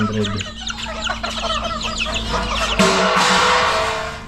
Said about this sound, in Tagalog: Tumitilaok na nga yun.